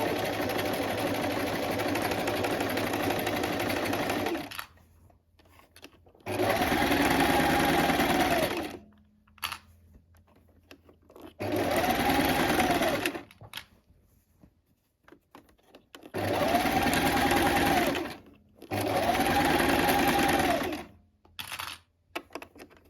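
A sewing machine runs a straight stitch at length 3 with a size 70 universal needle, humming in four separate bursts of a few seconds each, with quiet pauses between them.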